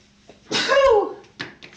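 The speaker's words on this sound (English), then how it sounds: "I'm going to sneeze" A single loud, close sneeze bursting out mid-sentence during a math tutoring livestream, followed by a couple of brief softer vocal sounds.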